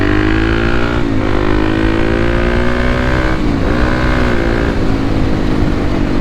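A Kawasaki KLX300 dirt bike ridden on mountain roads, its single-cylinder engine droning loud and steady close up, rising in pitch with two brief dips as it shifts gears, with steady wind noise underneath.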